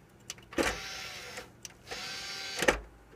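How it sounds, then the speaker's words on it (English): An optical drive mechanism in a Rosewill Blackbone computer case whirs in two short motorized bursts separated by a pause, with a faint click between them. The surrounding machine stays very quiet. "the mechanism for the optical drive is louder than the computer by a long shot"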